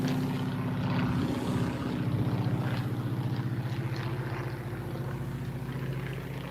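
Low propeller aircraft passing overhead, a steady loud engine drone with strong low harmonics that swells and slowly fades, heard alone without talk.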